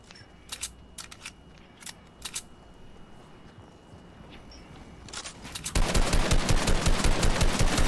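Rapid automatic gunfire in Fortnite, with scattered shots early on building into a loud, sustained burst of fast repeated reports near the end.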